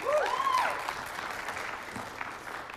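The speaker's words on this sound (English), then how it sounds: "Give them a round of applause." Audience applause for a choir at a music festival, a broad steady wash of clapping from a crowd that carries on evenly, with a brief tonal whoop or whistle near the start.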